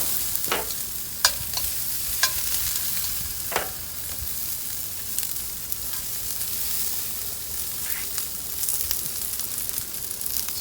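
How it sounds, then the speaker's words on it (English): Half an onion sautéing in a pan, a soft continuous sizzle with scattered sharp clicks and scrapes from stirring, moderately quiet and without talk. "So that half an onion that we cut up earlier. Throw that in there, get that cooking."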